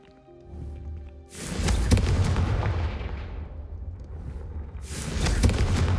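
Confringo fire spell blast in the video game Hogwarts Legacy, a loud, deep whooshing burst that swells and rumbles for several seconds, followed by a second fiery blast near the end.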